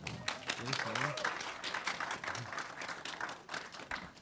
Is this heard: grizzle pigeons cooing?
no